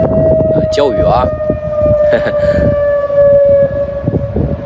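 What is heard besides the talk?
Beijing civil defense air raid siren test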